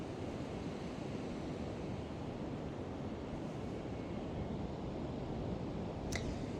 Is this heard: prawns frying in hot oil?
no